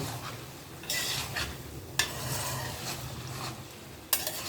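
A spoon stirs pasta in tomato sauce in a pan, making quiet sticky scraping strokes in three bursts, each starting with a sharper knock against the metal, over a faint sizzle. The sound is close and there is no talk.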